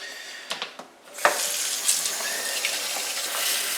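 Water runs hard into a sink to rinse out a Pinter 2 dock, a few clunks and splashes giving way to a steady, loud, close rush of tap water with no talking.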